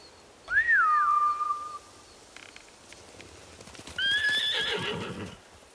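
A horse whinnies loudly in Ghost of Tsushima, followed by a second high neigh, with a brief clatter of hooves in between.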